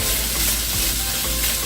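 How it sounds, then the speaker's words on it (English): Butternut squash with sprigs of thyme sizzles loudly while being stirred as it caramelizes in a pan, a steady close frying hiss with soft scrapes and shuffles from the stirring, no talking. "we're going to just stir it because it's starting to get caramelized"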